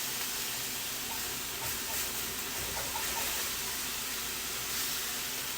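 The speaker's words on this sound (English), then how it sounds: "I know it's loud, the sizzle." Pork medallions searing in a hot pan give off a loud, steady, close sizzling hiss with faint crackles that carries on unbroken throughout.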